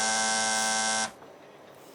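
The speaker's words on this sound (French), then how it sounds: "Quand vous entendez le buzzer, ça veut dire que c'est une mauvaise réponse." A loud, harsh electronic buzzer blares steadily for about a second on a quiz show to mark a wrong answer, then cuts off abruptly into quiet.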